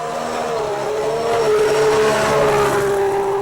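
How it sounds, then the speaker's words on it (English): A McLaren Honda-powered Formula 1 car runs on track during pre-season testing at Jerez, its loud, steady engine note holding close by and swelling slightly midway, with no talk. "Fernando Alonso eventually got out onto the track in the new Honda-powered car"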